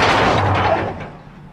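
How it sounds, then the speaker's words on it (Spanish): A single gunshot fired outdoors in a tense confrontation, a loud broadband blast that decays into a reverberant tail over about a second, with no voices. "¡Un disparo!"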